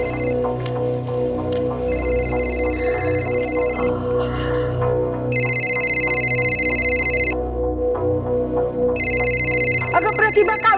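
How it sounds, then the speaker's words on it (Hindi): A telephone rings in a Hindi TV crime drama: a repeating electronic ringtone in three spaced bursts over a low, sustained musical drone. "बघा कुणाचा फोन आहे"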